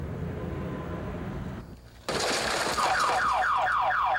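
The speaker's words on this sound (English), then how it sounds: "The piercing echo of an auto alarm." A car alarm bursts on after a moment of background noise and a sudden loud cut, settling into a loud, piercing, rapidly warbling electronic siren that repeats its cycles steadily.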